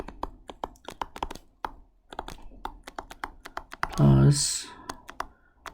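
Rapid, uneven tapping on a computer keyboard as an equation is typed out, close and crisp, with a short burst of speech partway through and a few scattered keystrokes continuing afterward.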